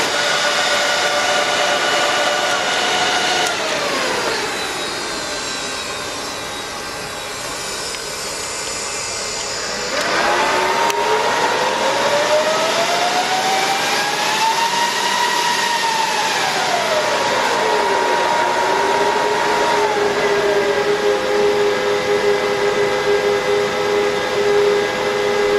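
Two Dell servers run with their cooling fans whirring loudly, a constant airy roar with a whining tone that ramps up and down in pitch as the fans change speed, and no talk over it.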